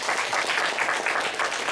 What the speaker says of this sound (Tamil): ஹலோ, இன்னொரு தடவை கைதட்டுங்க.